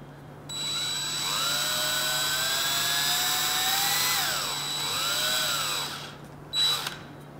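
A power drill twists two clamped wires into a twisted pair, its motor whining steadily and close for about five seconds, the pitch sagging under load and rising again before it stops with a brief clunk.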